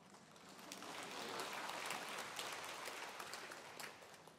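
Congregation applauding in a large church hall during a sermon, a broad steady wash of clapping that swells and sustains for several seconds without speech.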